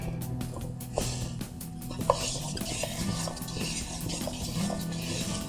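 Halwa being stirred and roasted in a pan near the end of cooking, with steady scraping strokes and a few sharp clinks of spoon against metal over a low continuous background.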